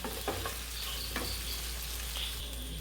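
Kadai chicken pieces frying in hot oil in a pan, a steady close sizzle with occasional stirring clinks and bubbling pops throughout, no voices.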